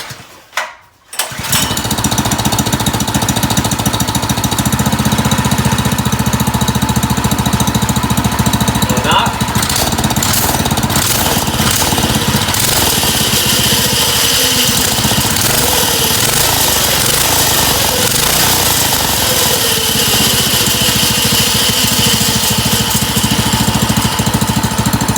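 A small Harbor Freight ATV engine starts and roars, running loud and steady with a rough, rattling idle that shifts in pitch as it revs, close by, with a suspected exhaust leak.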